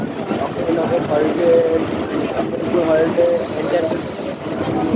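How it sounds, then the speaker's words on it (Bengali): Non-AC local train on the Ranaghat–Bongaon line rumbling along as it turns, with a sharp, sustained high brake squeal rising over the wheel noise in the second half and faint voices in the carriage. "ট্রেনে ব্রেকিংয়ের সাউন্ড যথেষ্ট ভালো"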